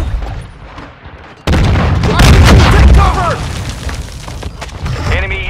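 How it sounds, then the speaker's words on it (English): A flash grenade thrown and going off in Call of Duty: Modern Warfare, a sudden loud burst that stays sustained and roaring with ringing tones over game sounds, with chatter from the game announcer. "Throwing flash grenade."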